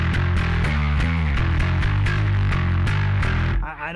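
Heavily distorted, chugging guitar riff through a metal distortion pedal, Harley Benton PJ-4 bass, with dense, saturated tone and rhythmic palm-muted attacks, cutting off abruptly near the end.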